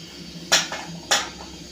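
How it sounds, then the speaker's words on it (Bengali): A metal wok (kadai) is set onto a gas stove with a couple of sharp, close clanks and a lighter scrape between them. "তারপরে কড়াই বসাবো।"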